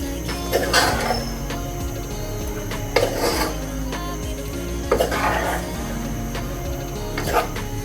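Pasta stirred in a metal pot by hand, with repeated scraping and clinking bursts about every two seconds over a steady background hum.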